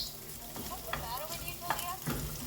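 Garlic and tomato frying in a pan with stirring, a steady close sizzle broken by a few scraping stirs, with no talk.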